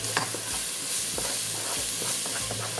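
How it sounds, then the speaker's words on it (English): Paprika and caraway seed being stirred into a hot frying pan for chili con carne: a soft, continuous sizzle with a few scraping strokes of the spoon, close and fairly quiet, no voices. "Give it a stir"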